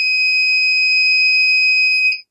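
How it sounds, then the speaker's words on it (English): A piezo buzzer in an Arduino breadboard smoke detector sounds one continuous shrill, piercing tone for about two seconds and then cuts off abruptly, loud and close, with nothing else heard. "So buzzer is working as alarm, and LED light is working as a hazard light."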